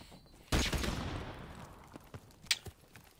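A loud, close burst of gunfire in Call of Duty: Modern Warfare Remastered, with a long decaying tail, followed by a few fainter, quicker shots and clicks, and no voices.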